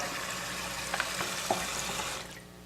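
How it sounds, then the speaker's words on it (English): Tap water pours into a Vitamix blender jar being filled with soap and water for cleaning, a continuous splashing stream with a few small knocks and clinks before it tapers off. "So right now I'm gonna fill it with water, fill it with some soap."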